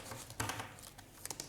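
Tarot cards being drawn and handled from a deck, with soft crinkling paper rustles and a few short slaps scattered through a quiet passage, close and faint.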